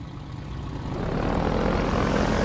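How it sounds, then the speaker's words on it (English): Helicopter from the Half-Life 2 video game, its rotor and engine drone swelling steadily louder and closer, a dense continuous roar with no talking. "We've got an immortal helicopter dropping bombs."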